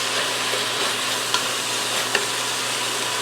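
Loud, steady frying sizzle of chicken fajita pasta in a skillet fills the clip, a dense hiss with a couple of brief sharp pops, close up and with no one speaking.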